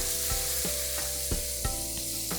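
Ground masala sizzles and crackles in hot oil for chole while a spoon stirs the pan in several distinct scraping strokes, close and steady.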